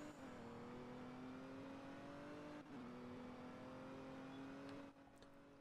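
A car in a police-patrol video game takes off for an illegal drag race on a road, its engine droning steadily with rising revs, a brief gear-shift dip partway through, and a continuous near, loud whine to the end.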